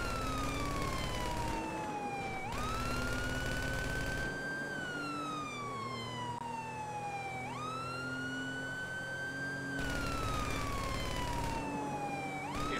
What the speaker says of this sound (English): Siren for siren, I guess, right?